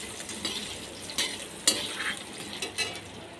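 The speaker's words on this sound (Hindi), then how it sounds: "ये जो हमारे आलू थे वो भी हम सब्ज़ी में अपनी डाल दे रहे हैं मसाले में, और इसको अच्छे से चला दे रहे हैं" Potatoes get stirred into a spice masala in a pan, giving a soft background sizzle with several distinct scraping and clanking spatula strokes at irregular intervals.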